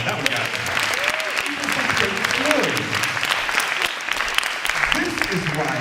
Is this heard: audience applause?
yes